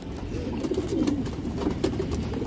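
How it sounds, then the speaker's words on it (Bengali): Pigeons cooing in a loft of breeding pairs, soft repeated throaty coos close by, steady throughout with light rustling and no talk. "মাদি কবুতর আছে।"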